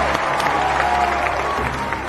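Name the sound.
crowd cheering and applauding in an audiobook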